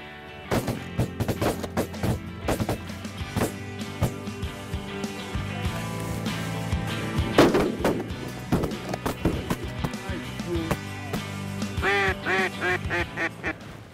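A Wingstopper combination pintail whistle duck call is blown during a Texas waterfowl hunt over a snow goose spread, with short repeated whistles and quacking calls mixed among other field sounds and sharp bangs.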